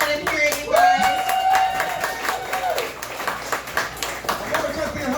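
Comedy-show audience welcoming a comedian with a burst of hand clapping, dense at first then thinning into scattered claps, with a whistle and cheers over it and voices mixed in.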